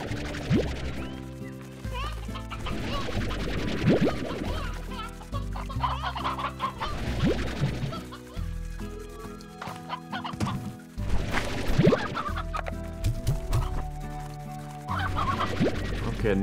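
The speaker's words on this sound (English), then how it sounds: "Okay, so we need a full stack of chickens." Chickens cluck repeatedly in the Slime Rancher video game, a busy run of fowl calls layered over steady game music with a voice talking at moments.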